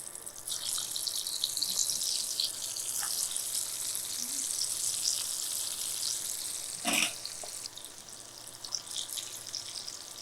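Cutlet pieces frying in moderately hot oil give a steady, dense sizzle that runs evenly throughout, with one brief louder burst partway through.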